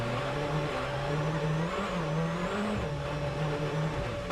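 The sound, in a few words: rally car on winter tyres spinning for traction on snow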